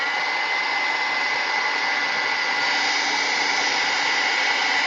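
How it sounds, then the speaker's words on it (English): A heat gun blows hot air over decorated wooden buttons, a loud, steady whooshing roar close by that holds for the whole stretch without pause, with no talk. "I'm going to turn on the heat gun"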